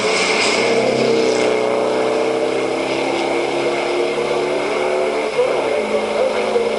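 Drag race cars including a VW Polo blast off side by side at Bug Jam, a loud, sustained engine roar with rising harmonic whine under a commentator's voice.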